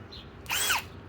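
A Ryobi 18V hammer drill rated at 750 inch-pounds spins up briefly in one close, loud whine that rises and falls over about a third of a second, with quiet background before and after.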